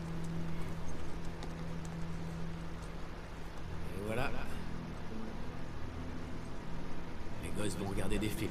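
Horse hooves clip-clop in the video game The Last of Us, a steady trotting rhythm under a constant background hum and game ambience, with a brief burst of other game sounds near the end.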